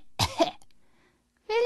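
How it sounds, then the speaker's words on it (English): A narrator reading Little Red Riding Hood aloud voices the wolf's delicate cough: two quick, soft coughs close to the microphone, a short silence, then the reading voice resumes. "The wolf coughed delicately."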